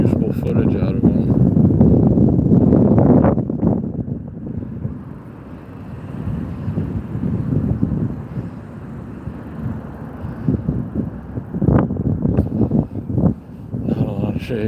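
Steady wind buffets the microphone during a morning bike ride in downtown Las Vegas, a loud rushing roar that swells and eases over the whole stretch, with someone talking over it at times.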